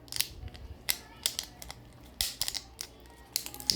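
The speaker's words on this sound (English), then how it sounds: "it's quite well sealed, so you'll have to cut open the entire of it" Scissors snip through the tightly sealed plastic packaging of a 3V button cell for a car key remote, making several sharp, close cuts and crinkles at an uneven pace, with no talking.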